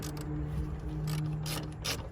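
A ratchet wrench turns the 14 mm strut bar bolts on a BMW M3, giving rapid close clicking bursts in quick succession under a steady low hum.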